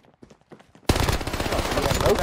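Video game gunfire bursts in suddenly after a short quiet stretch with faint voices, then continues as loud, dense rapid-fire shooting that fills the remaining seconds.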